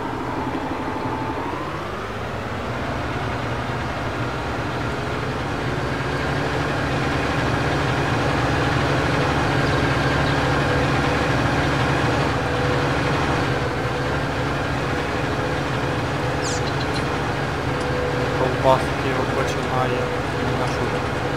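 A tractor engine in Farming Simulator 2019 revs up from idle to a steady, loud working drone and holds that pitch while a voice talks over it.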